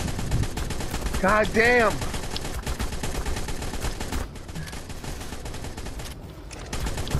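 Sustained automatic gunfire rattles steadily through a battle in the game Ark, dense and fairly loud, with a brief spoken curse and a short tonal call rising above the shooting.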